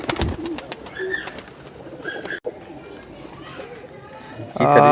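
Teddy pigeons in a breeding setup give soft, low cooing calls among other birds, close by, while someone talks over them and a louder rustle comes near the end.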